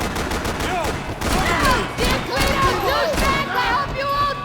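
Rapid gunfire bursts crack through a Max Payne 3 shootout, close and dense, mixed with shouting voices throughout.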